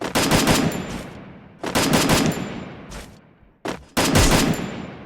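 Three loud bursts of rapid long-range gunfire from the Free Fire video game, each a tight volley of sharp cracks trailing into a decaying tail, with a brief single shot before the last burst.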